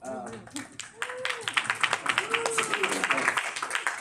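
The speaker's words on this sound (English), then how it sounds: "Golf clap." Light, scattered clapping from an audience at a business conference talk, a polite golf clap that builds into steadier applause with voices talking over it.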